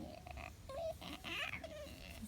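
A chicken taking a dirt bath makes an odd, low, grunting sound much like a pig's oink, a few short faint calls close by with no talk.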